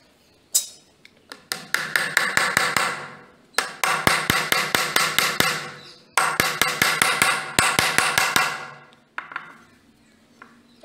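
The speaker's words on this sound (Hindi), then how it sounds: "अभी मैं यहाँ पे दो मेक मार देता हूँ" A hammer drives nails into a wooden strip on a frame for a homemade solar power bank, striking in fast bursts of sharp, ringing blows with short pauses between the runs, close and loud.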